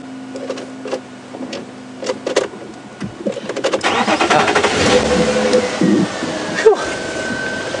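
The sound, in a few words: safari vehicle engine starting and revving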